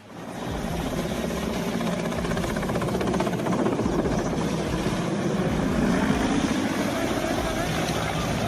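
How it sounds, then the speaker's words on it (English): Mexican Mi-17 helicopter makes an emergency landing, its rotor and engine a dense, continuous roar that stays loud and steady throughout with no pauses. "Watch the emergency landing of a Mexican Mi-17 helicopter."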